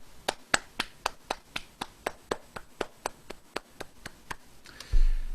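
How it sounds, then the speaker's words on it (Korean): Slow, evenly spaced claps ring out one by one at a Sunday church service, about twenty crisp beats in a steady rhythm, ending in a louder muffled thump and rustle. "우리 하나님께 영광의 박수를 올려드리죠."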